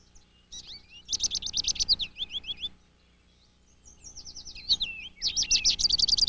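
Finches at a Niger seed feeder in a backyard send out bursts of high, rapid chirps and twittering song, two clear flurries separated by a quieter gap, close and lively against a calm background.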